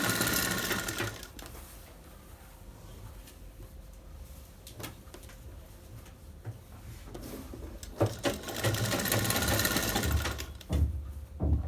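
A sewing machine runs in bursts and pauses, stitching piping along a blouse shoulder seam without cord, its motor whirring close and loud with short stops between runs.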